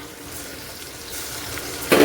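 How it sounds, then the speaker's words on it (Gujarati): Tomatoes go into a pan of tempered onions and green chili. A soft, steady frying hiss builds, and a sudden louder sizzle bursts up at the very end. "હવે એમાં નાખીશું આપણે ટમેટા."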